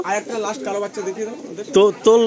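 Madrasi pigeons coo in a loft in Kolkata, soft throaty rolling calls heard close by, mixed with people talking nearby.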